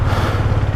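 A Hero Xtreme 250R 250cc motorcycle engine runs close by, a brief loud, throbbing low rumble with no talk.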